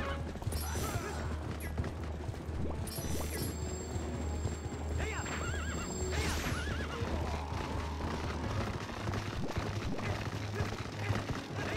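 A horse in the video game The Legend of Zelda: Twilight Princess HD neighs loudly several times, hooves clopping beneath, with game clatter and a player talking over it.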